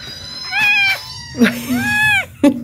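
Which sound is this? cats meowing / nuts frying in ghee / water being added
cats meowing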